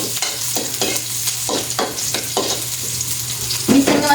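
Ginisang corned beef, cooked dry with little broth, sizzles steadily in a pan while a spatula scrapes and stirs it in repeated strokes, close and fairly loud.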